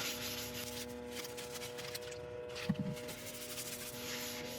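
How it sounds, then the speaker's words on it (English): A cloth soaked in isopropyl alcohol wipes excess abrasive paste off a sequoia redwood turning on the lathe, making a soft, continuous rubbing over the machine's hum, with a few faint knocks near the middle. "I'm just going to clean off any excess abrasive polish, abrasive paste with a bit of isopropyl alcohol."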